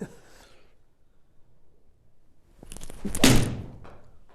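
A golf club strikes a Slazenger golf ball: after a quiet stretch comes a single dull, solid thud of impact, close and fairly loud, with a brief rattle around it.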